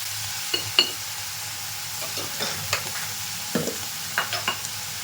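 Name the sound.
tomatoes frying and being stirred in a pan for chutney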